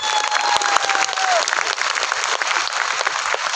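Dense audience applause fills a hall at a Modicare corporate event, steady and loud throughout, with a few whistles early on and no talking over it.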